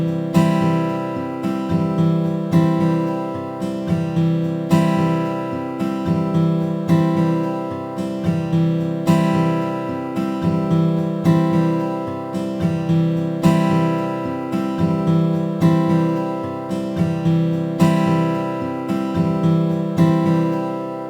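Strummed guitar chords ring out in a steady repeating rhythm, full and close, playing alone with no voices.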